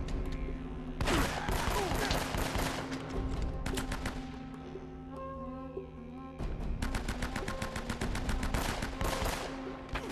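Shotgun and rifle fire in Uncharted: Drake's Fortune, loud bursts of rapid shots in two long volleys separated by a quieter gap, with game effects in between.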